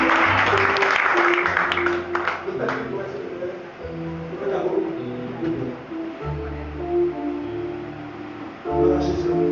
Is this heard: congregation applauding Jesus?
yes